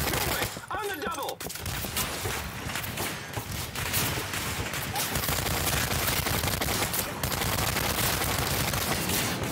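Rapid gunfire bursts from the first-person shooter Turning Point: Fall of Liberty, loud and dense throughout, with a voice talking over it.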